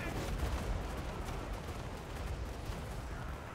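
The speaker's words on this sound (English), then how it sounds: "Going to use some magic to bombard them" Magical bombardment spells striking troops in the fantasy battle game Total War: Warhammer 2, a faint, steady barrage of rumbling blasts and crackling impacts in a continuous battle din.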